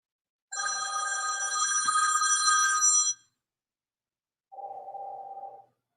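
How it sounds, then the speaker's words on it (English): A telephone rings with a bright, buzzy electronic tone in one long burst of about two and a half seconds, then a shorter, lower burst after a pause, close and fairly loud. "Somebody's ringing my phone"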